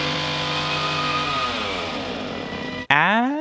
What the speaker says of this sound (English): Where he chains her up and turns on the convenient brand new chainsaw.